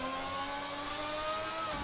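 A screaming V12 race car engine in the Assetto Corsa racing game, held at a high, steady rev with a loud, continuous whine and no voices.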